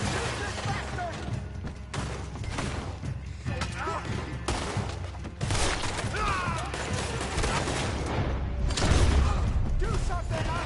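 Gunfire in Red Dead Redemption 2 rings out as repeated sharp gunshots and rapid volleys spread across the scene. Shouting voices mix in among the shots.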